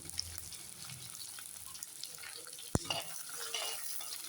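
Chopped onions go into hot oil in a pan for a Kerala sardine chilli dish, giving a continuous crackling sizzle with stirring, a single sharp metallic clank midway, then the frying swells slightly louder.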